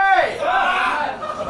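A crowd at the UMB2017 Tochigi qualifier beatbox battle cheers for beatboxer KOW BEAT in one short, loud burst of shouts and whoops that fades quickly.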